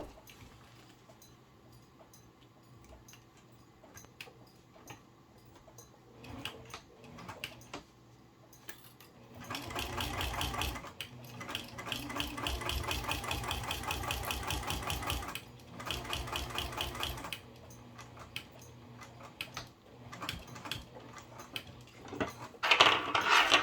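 Sewing machine stitching a business bag, running in short bursts at first and then a long steady rhythmic run of several seconds, with brief pauses and handling clicks between.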